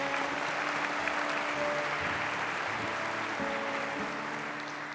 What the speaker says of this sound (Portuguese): Vamos aplaudir a palavra do Senhor.